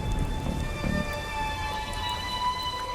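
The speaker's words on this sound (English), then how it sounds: "The hills are alive with the sound of raining." Steady rain patters down in the video game Darkside Detective 2, a dense continuous hiss with low rumble at the start, alongside faint sustained musical tones.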